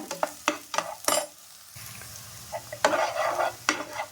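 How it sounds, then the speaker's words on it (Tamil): Onion, ginger, garlic and green chili sautéing in a pan, with sharp spatula scrapes and clinks over a steady sizzle that swells as the stirring continues. "இப்போ இந்த ஸ்டேஜில் இஞ்சி, பூண்டு, பச்சை மிளகாய் சேர்த்துடலாங்க. அதுவும் சேர்ந்து நல்லா வதங்கட்டுங்க."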